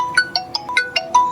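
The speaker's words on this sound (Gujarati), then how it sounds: "લા નિખિલ નો ફોન" A mobile phone plays a bright, rhythmic ringtone, a regular series of short chiming tones repeating about every fifth of a second, loud and close with no talking.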